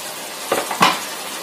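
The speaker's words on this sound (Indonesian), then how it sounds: "Kita aduk sampai layu" Spring onions stirred in a pan with chicken until wilted, heard as two brief spatula scrapes and clinks against the pan, close and moderately loud, over a faint steady sizzle.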